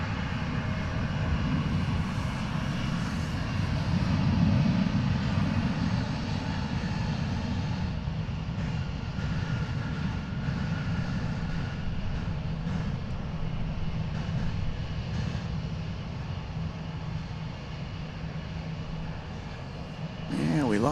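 An airliner on flight 1341 touches down after an earlier go-around at DFW Airport, a broad steady engine roar at moderate distance that swells early and holds through the landing roll.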